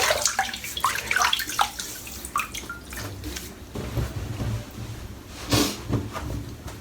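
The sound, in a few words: water from a tap wetting a head before shaving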